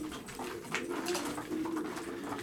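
Racing pigeons feeding in their loft coo continuously in a dense, overlapping chorus of low, rolling throaty calls, close and steady throughout with no talking.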